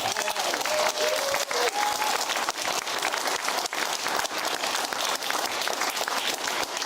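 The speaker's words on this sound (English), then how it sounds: "let's just give him a round of applause" Studio audience applauding a WWII veteran on a television show, sustained dense clapping at steady loudness throughout.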